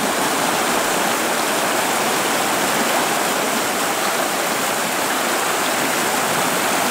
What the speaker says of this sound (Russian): Вот такая она, коварная река наша